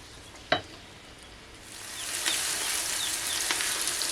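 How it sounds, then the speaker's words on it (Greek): Chopped onion and four garlic cloves start sautéing in a pan for a sausage and feta pasta, a single sharp clack followed by a rising, steady sizzle that builds and holds. "Θα βάλω 4 σκελίδες κόρδο και περιμένουμε να ξεκινήσει το σοτάρισμα"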